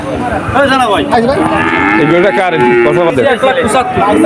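Sahiwal cattle at a busy cattle market before Eid al-Adha moo loudly and close by, the calls overlapping with nearby voices talking throughout.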